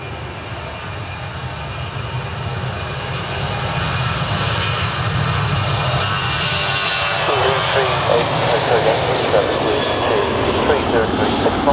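An airliner taking off from runway 27 at Bristol Airport, with a steady jet engine roar that builds and thickens as it accelerates down the runway. Heard from a distance with voices talking over it.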